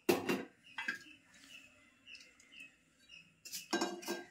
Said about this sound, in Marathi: आता मी पॅन ठेवलाय.